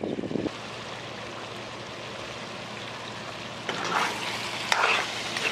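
Goat curry sizzling hard in a pot over an outdoor coal fire as the remaining liquid cooks off, a steady close crackle that swells louder near the end, with no talking.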